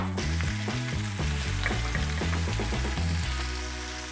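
Short ribs and a halved head of garlic, skin on, sizzling in a pan, a bright continuous frying hiss heard beneath background music with a stepping bass line.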